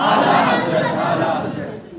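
A large gathering at a religious celebration for Imam Abu Hanifa roars back slogans in unison, a loud, dense burst of many voices that swells and then fades over two seconds.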